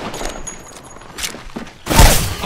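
Gunfire in the video game Apex Legends: faint scattered shots, then a loud close burst near the end, with game ambience around it.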